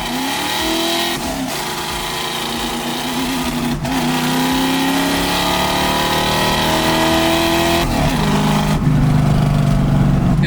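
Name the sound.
supercharged 1965 Ford Mustang accelerating hard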